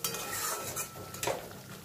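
Beaten yogurt going into a pan of cooking masala and being stirred, with a steady close sizzle and the scrape of a spoon, plus a brief clink near the end.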